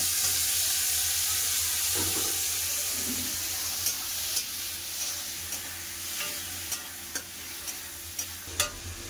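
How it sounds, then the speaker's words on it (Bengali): Chopped tomatoes hit hot oil with fried onion, nigella seeds and slit green chillies, giving a steady close frying hiss with a few sharp spattering pops, and no voices. "এবার কেটে রাখা টমেটো দিয়ে দেবো"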